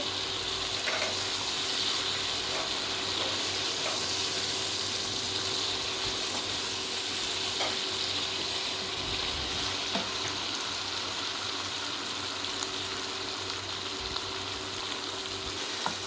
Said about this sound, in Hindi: अब हम इसके अंदर डालेंगे सब्ज़ मिर्च, थोड़ा सा इसको भूनेंगे।